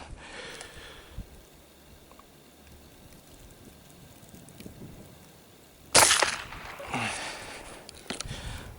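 An IZh-17 shotgun fires a single homemade bullet: one sharp, loud blast after a quiet stretch, followed by a short fading echo and some rustling.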